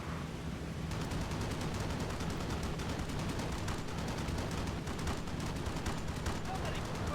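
Enemy fighters in a B-17 bomber video game pour out rapid cannon and machine-gun fire, a dense, continuous rattle of shots at steady loudness for several seconds.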